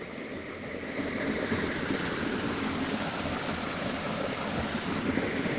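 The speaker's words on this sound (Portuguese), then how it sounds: "Está ouvindo o barulhinho da água?" Steady running water like a stream flows continuously, a full, even rush that rises after the first second and holds alone without talk.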